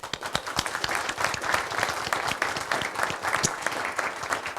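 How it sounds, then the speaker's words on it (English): A round of applause fills a high school press conference, with dense, steady clapping from the assembled crowd, close and sustained throughout without a break. "So let's go ahead and do another wonderful round of applause."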